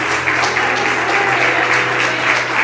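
A church congregation applauds in a thick, continuous wash of clapping, loud and even from start to finish.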